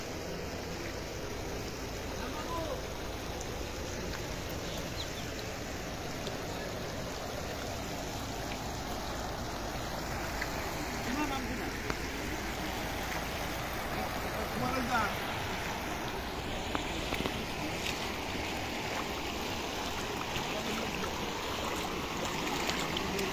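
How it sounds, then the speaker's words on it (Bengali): Floodwater rushing as a strong current through the Panna area of Ghatal, a steady broadband wash of water that continues without a break. "চারদিকে জল দেখতে পাচ্ছেন, ভালো স্রোত বইছে।"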